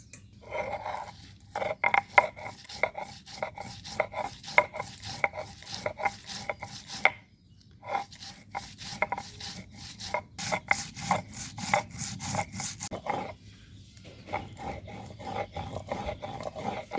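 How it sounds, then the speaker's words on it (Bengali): Mustard seeds, fenugreek and cumin ground fine on a stone slab with a stone roller, a close, steady run of rough scraping and rubbing strokes with short pauses. "এগুলো একসাথে ভালো করে মিহি করে আমি বেটে নিব"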